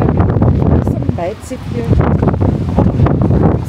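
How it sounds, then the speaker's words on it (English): Steady wind roars and buffets across the outside deck of a cruise ship at sea, a constant rushing noise that runs under people talking nearby. "It's a windy deck."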